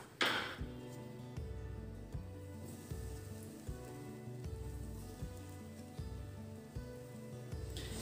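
Long-shaped chicken burger patties fry over very low heat, a steady, soft crackling sizzle with faint clinks of the pan, no one speaking.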